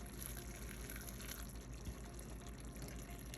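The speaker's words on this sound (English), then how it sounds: "So we're gonna go in with some hot water." Hot water poured steadily into a pan of Jamaican steamed fish with crackers and bammy, a continuous quiet gushing and splashing, faint and close, with no talk over it.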